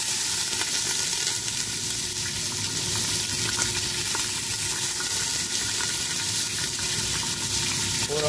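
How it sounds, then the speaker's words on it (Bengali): Soaked chana dal lands in a hot pan of oil with ginger, garlic and green chili, setting off loud, continuous sizzling and crackling that holds steady for several seconds with faint stirring taps. "এবার ওভারনাইট সোক করা যে চানা ডালটা ছিল সেটা আমি ঢেলে নেব।"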